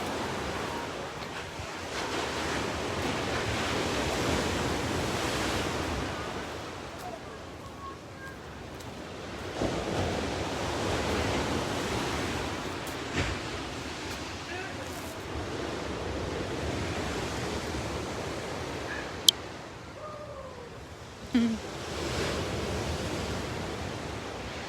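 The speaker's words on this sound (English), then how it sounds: "Big waves this morning." Ocean waves break steadily at Redondo Beach Pier in Torrance, California, on a calm, windless morning with big surf, a continuous washing roar with a few sharp knocks and brief bursts near the end.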